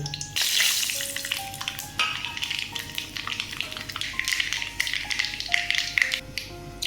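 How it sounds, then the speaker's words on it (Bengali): Bay leaf and black mustard seeds splutter in a little hot oil as a tempering for a bottle gourd and bori dish, with dense crackling and popping throughout over faint tonal music. "যে তেল আছে তাতেই আমি ফোড়ন দিচ্ছি তেজপাতা আর কালো সর্ষে"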